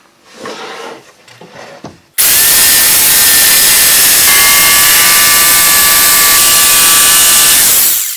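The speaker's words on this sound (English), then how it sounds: "now my oscillating sander, I'll sand that up to the line to get it straight and even" An oscillating sander starts abruptly and runs at a steady, loud high-pitched whine while sanding the edge of a wooden drill press table for a Porter-Cable floor stand drill press, after some quieter handling noises at first.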